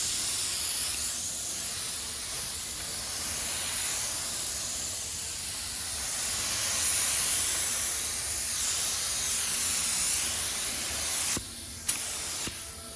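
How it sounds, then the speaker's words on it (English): A spray gun lays another coat of paint on a BMW, a steady close hiss of atomized spray that runs continuously and then breaks off near the end with a couple of sharp clicks of the trigger. "Now we're gonna put another coat on."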